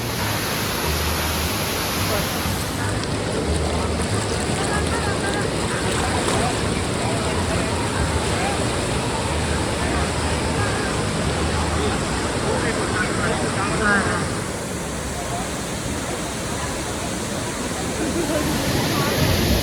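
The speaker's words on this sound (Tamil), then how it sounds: "ஸோ சவுண்டு கேட்கிறது, ஃபால்ஸ் பக்கத்தில் வந்துட்டோம்." A waterfall heard nearby in the hills as a constant, loud, broadband rush of falling water that fills the whole scene, with hikers approaching on foot.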